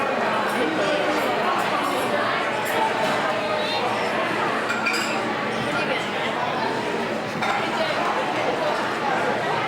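A crowd at a graduation chatters continuously as a steady, busy hubbub, with glass and cutlery clinking here and there among the voices.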